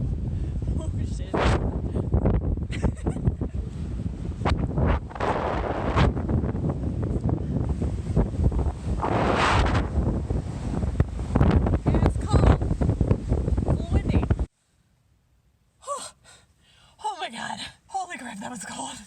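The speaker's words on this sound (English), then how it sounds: "It's just a little windy." Loud gusts of wind buffet the microphone, with people talking over the roar, then it suddenly drops to near quiet with brief rustling.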